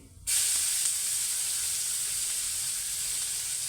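Onion dropped into hot oil already holding cumin and asafoetida, bursting into a sudden loud hiss that settles into a steady, close sizzle with no talking.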